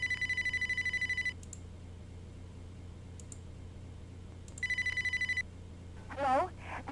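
In the point-and-click game Amber: Journeys Beyond, a portable phone rings with two bursts of bright electronic trilling separated by a quiet pause, followed by a short warbling tone at the end.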